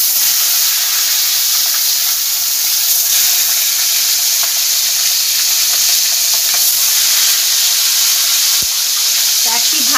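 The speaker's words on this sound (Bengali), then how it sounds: "মাছগুলো ভেজে নেব।" Katla fish pieces frying in a pan of white oil mixed with a little mustard oil, giving a steady, close, loud sizzle and hiss that runs throughout with occasional crackles.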